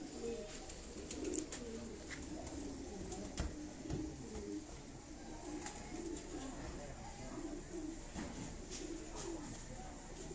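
A high-flying pigeon held in a man's hand in Abbottabad gives soft, repeated cooing in a quiet setting, with someone talking.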